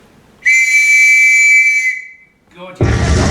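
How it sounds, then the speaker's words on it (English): A sentry blows a loud, steady whistle for about one and a half seconds, a single sustained blast that trails off, followed by a burst of rough noise in a stage play setting. "Blow your whistle, man, for God's sakes."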